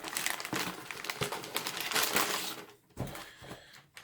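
Hard plastic wrapping is torn and peeled off a 2011 United Nations 24-hour ration pack, giving loud, close crinkling and crackling in irregular bursts with a brief pause partway through.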